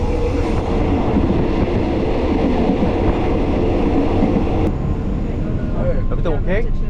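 Thai overnight train rolling along the rails with a steady, loud rumble and clatter throughout, a voice speaking briefly near the end.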